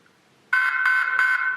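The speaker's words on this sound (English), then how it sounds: "First one's going to be the door alarm." A door alarm tone from an inexpensive DCC sound decoder cuts in abruptly after a short silence. It sounds as a loud, steady electronic buzz broken into three repeated pulses with only brief gaps between them.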